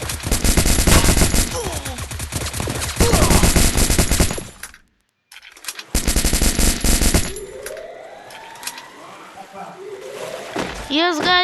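Rapid automatic gunfire in the Free Fire mobile game, loud and dense bursts that stop briefly and then resume, with game effects and a voice talking over parts of it.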